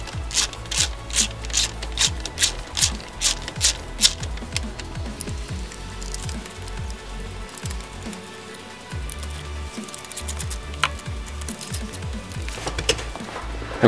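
Short shifter bolts on a Mazda MX-5 Miata are tightened by hand, giving a close run of quick, rhythmic ratcheting and scraping strokes that slows into irregular rubbing and clicks.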